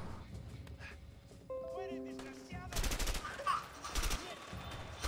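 Gunfire from a shootout with enemies in the co-op game A Way Out erupts as dense, rapid bursts of shots, mixed with game sound effects and tones, with voices talking underneath.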